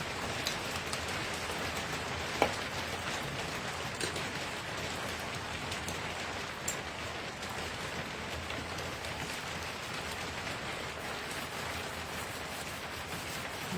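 Rain falls steadily outdoors in an even, soft hiss with scattered drips and a few sharper taps, moderately quiet and continuous with no talking.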